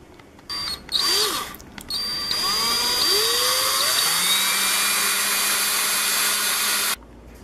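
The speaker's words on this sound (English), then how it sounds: "I'm going to be using a 5/8 inch drill bit" A power drill with a 5/8 inch bit bores holes in wood for a wand stand: short revving bursts, then a sustained whining drill run that rises in pitch and holds for several seconds before stopping, loud and close.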